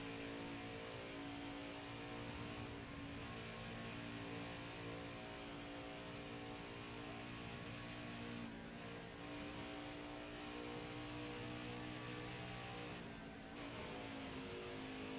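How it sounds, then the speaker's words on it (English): Racing cars come out onto the Charlotte track in a racing video game, producing a constant blended engine drone with overlapping revs and a few brief dips, steady and unbroken. "Three cars coming out."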